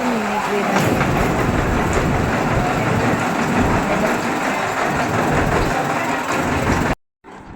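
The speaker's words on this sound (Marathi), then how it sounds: "आता आपली ही मिनी ट्रेन आलेली आहे" Small mini train at Elephanta Caves rumbling past close by, with steady clattering wheels and a continuous loud drone that cuts off abruptly near the end.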